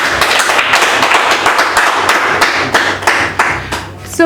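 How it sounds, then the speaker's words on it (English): Studio audience clapping for guests on a talk show, loud and close, with distinct individual claps and a fairly small crowd that thins out toward the end. "Please, a round of applause."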